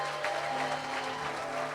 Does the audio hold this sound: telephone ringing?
no